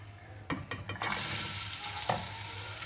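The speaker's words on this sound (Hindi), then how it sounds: "गर्म है पैन पहले से, तो उसमें चलेगी प्याज।" Onion frying in a pre-heated pan of oil: a few quick stirring knocks, then a loud hissing sizzle surges up and holds steady with another scrape.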